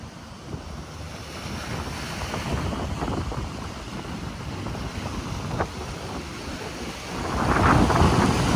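Strong wind roars and buffets the microphone continuously at Manila Bay, swelling louder toward the end, with no voices.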